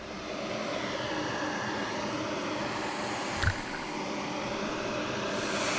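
A heat gun warming vinyl decals on an RV, a steady even hiss and blowing whir held at a constant level throughout, with one brief soft knock midway.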